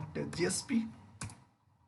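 Several quick keystrokes on a computer keyboard come in short clustered taps while someone speaks, then trail off into quiet.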